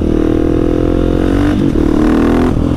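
A KTM 701 single-cylinder motorcycle holds a loud, close, buzzing rev under load during a wheelie, the pitch climbing steadily, briefly dipping at a shift and then pulling high again.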